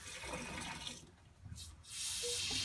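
Water running through the hose of a Tyent water ionizer, a soft, steady trickle and splash that dips briefly midway before resuming at a quiet level.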